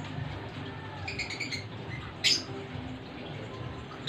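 A few brief bird chirps sound close by over a steady low background hum, with one sharper chirp standing out near the end.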